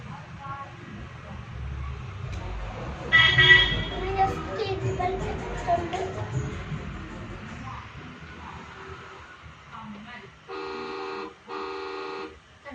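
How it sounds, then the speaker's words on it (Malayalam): Two bursts of a car horn sound near the end, after a stretch of background chatter and children's voices with street noise. "ഹോൺ അടിക്കുന്നുണ്ട്."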